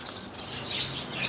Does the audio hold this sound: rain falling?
no